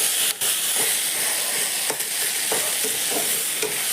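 Fish pieces frying with eggplant in a pan give a steady, close sizzle, with light stirring scrapes and taps at intervals and no voices.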